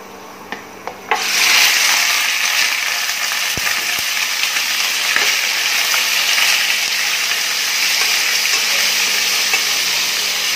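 Minced garlic hits hot oil and crackles into a loud, steady sizzle that continues close by, with occasional light stirring knocks, while cooking chicken.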